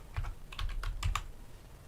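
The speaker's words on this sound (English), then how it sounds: "should just type in" Fingers type on a computer keyboard in a short burst of quick, fairly quiet key clicks heard up close, with no talking.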